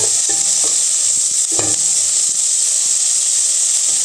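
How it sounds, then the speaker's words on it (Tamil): Onions sautéing in hot oil with mustard seeds and cumin for a coconut-free chicken curry, a steady close sizzle and hiss broken by a few scraping stirs of the spoon. "வெங்காயம் போட்டாச்சு, வதக்கிட்டு இருக்கேன்"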